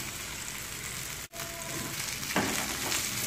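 Cut potatoes drop into hot oil already sizzling with mustard seeds, curry leaves and green chillies, a steady close frying hiss with a brief dropout and a fresh burst of crackle as they land.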